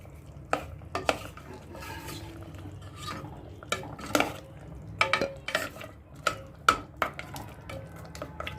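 Kashmiri aloo gosht being stirred and mixed in a pot, a spoon scraping and clacking against the metal in repeated uneven strokes over a soft sizzle, close by.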